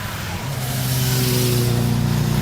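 Car engine rising and droning steadily as a vehicle travels along a busy, noisy road beside a new footpath near a picnic site; a loud, close, continuous engine hum that swells early and holds.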